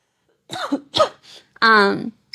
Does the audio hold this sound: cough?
yes